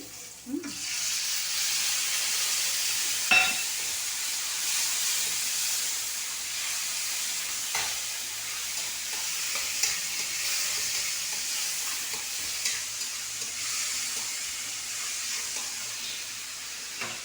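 Ground spice paste mixed with water sizzles in hot oil over fried onions for a rohu fish curry, a continuous close hiss with occasional stirring clatters.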